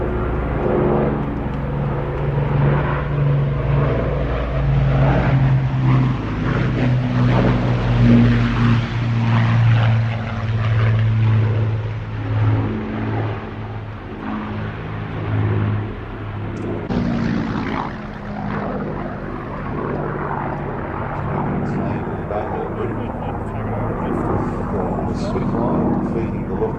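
An Avro Lancaster bomber's propeller engines drone loudly as it flies past an airport, with a sustained rumbling hum that swells and slowly fades while someone talks over it.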